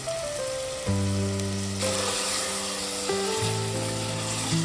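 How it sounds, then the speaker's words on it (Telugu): Half a kilo of chicken sizzles in fried ginger garlic paste inside a clay pot, a steady, fairly loud frying hiss layered over sustained tonal background sounds. "ఇట్లా వేగిన అల్లం వెల్లుల్లి పేస్ట్లో మనం శుభ్రం చేసుకున్న హాఫ్ కేజీ చికెన్ని ఇట్లా వేసుకోండి"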